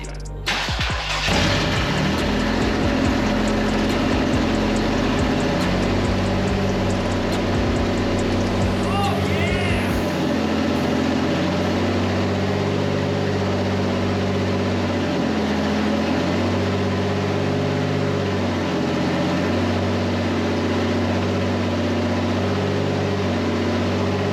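A 1951 Chevy hot rod engine cranks and fires, then runs loud and steady at close range with throaty low rumble and small rev changes, a voice occasionally heard over it.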